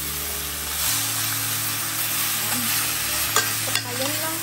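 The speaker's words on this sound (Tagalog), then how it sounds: "Lutuin ang pork belly. Lagay lang natin dito sa kaldero." Pork belly frying in a pot while being stirred, a steady broadband sizzle with scraping stir sounds and a low continuous hum, close and fairly loud with no talk.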